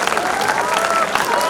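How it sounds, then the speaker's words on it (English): A convocation ceremony audience applauds steadily, a dense wash of clapping throughout, with a voice faintly audible over it. "Let's keep applauding."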